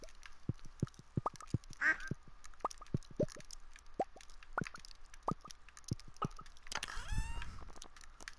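In the Stardew Valley farming game, a duck quacks briefly among repeated soft plopping and clicking game effects, with a louder burst near the end.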